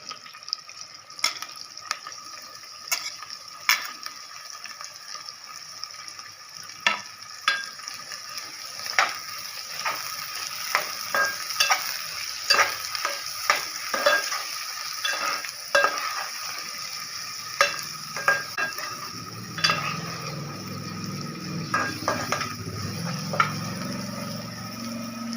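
Onions sizzling in oil for koramenu fish curry, a steady hiss broken by frequent clicks and scrapes of a stirring spoon, with a louder burst of frying near the end.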